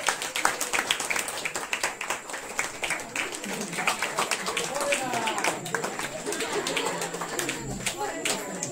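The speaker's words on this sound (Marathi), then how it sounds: "एकदा जोरदार टाळ्या होऊन जाते" Steady applause from a crowd for performers of a folk dance troupe, continuous clapping throughout with voices murmuring underneath.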